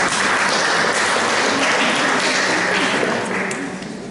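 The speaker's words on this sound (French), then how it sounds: "Thierry, qui nous rejoint, s'il te plaît, sous les applaudissements du public" A public audience applauds at a twin-town meeting in Auxerre, a dense, steady wash of many hands clapping that stays loud throughout and eases off slightly at the end.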